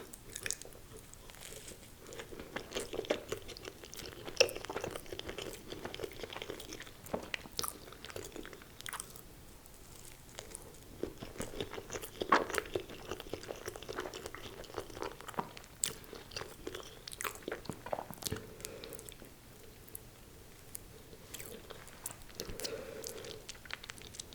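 Crumbl cookies being bitten and chewed up close for an ASMR mukbang, with soft crunches and moist chewing in repeated irregular bursts, quiet and without talking.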